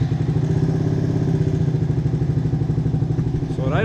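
A Suzuki DR200 motorcycle engine idles loudly and close by with a steady, lumpy thumping rumble that holds an even rhythm throughout, with no voices over it.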